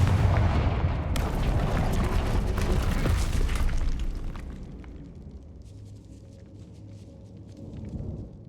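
Casting Confringo in the Hogwarts Legacy video game sets off heavy booming blasts with crackling bursts for about four seconds, then a rumbling tail fades into quieter residual noise.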